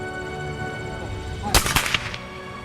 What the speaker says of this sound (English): He even demonstrated how to fire a rifle.